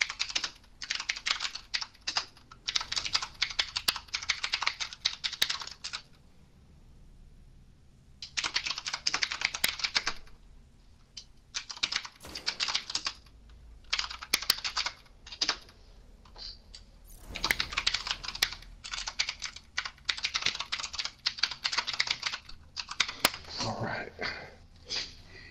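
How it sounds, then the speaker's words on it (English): Rapid clacking of a mechanical keyboard with Cherry MX Blue switches comes in dense bursts of fast, loud, close keystrokes separated by brief pauses, with quiet speech-like sounds in between. "I'm on my keyboard right now, dude. Sorry if it's fucking noisy."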